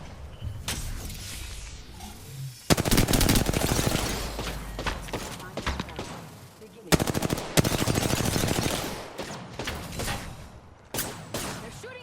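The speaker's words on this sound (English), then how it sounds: "They're shooting at me." Rapid automatic gunfire from enemy players in the battle royale game Apex Legends, loud bursts of machine-gun fire in several volleys with short lulls, near and sharp, some faint talk underneath.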